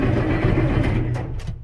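An Allis Chalmers tractor engine cranks and catches, giving a short, steady mid-pitched rumble close by that loosens and fades toward the end.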